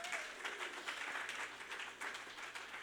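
A church congregation clapping for Christ during a Spanish-language sermon, steady faint applause spread through the room with no voices over it.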